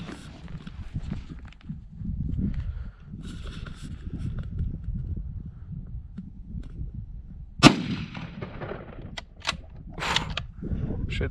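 A single sharp, loud rifle shot from a 1951 hunting rifle cracks out once outdoors in open New Mexico country during an antelope hunt, followed by a few fainter clicks and handling noises against steady wind rumble.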